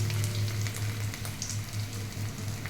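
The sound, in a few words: ground gongura leaves frying in hot oil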